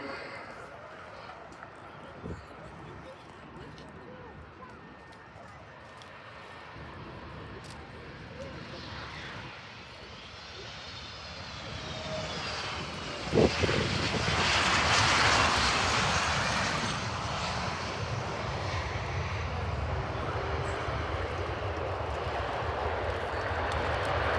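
An F-15 fighter jet taxis at Farnborough Airshow, its engine roar swelling from a distant rumble to a loud, whining rush midway and then holding steady, with a voice in the background.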